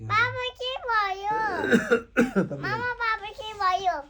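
Someone talks throughout, with a few short harsh coughs from someone with a cold and fever breaking up the speech near the middle, close and fairly loud.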